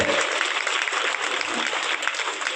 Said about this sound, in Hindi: जबरदस्त हाथताली देना चाहिए इन लोगों को